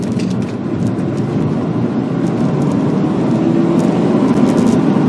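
A Subaru WRX STI engine hums steadily from inside the cabin, building slightly in loudness as it accelerates, with a low rumble and road noise throughout.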